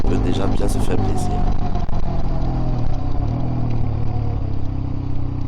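A Zontes GK 125 motorcycle accelerating gently, its engine hum climbing and shifting under wind noise, with a rider talking over it.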